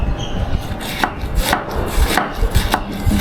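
A knife chops purple cabbage rapidly on a cutting board, crisp repeated thuds in a quick steady rhythm, close and loud with no talking.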